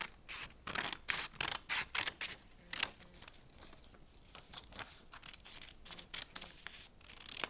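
Scissors snip through a square of origami paper, a run of quick crisp cuts in bursts, with rustling paper between them, close and fairly quiet with no talking.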